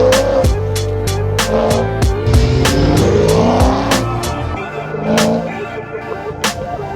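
A manual 2017 Chevrolet Camaro SS V8, warmed up, revs hard with repeated sharp throttle blips and a brief tire squeal, loud and close, alone without talk.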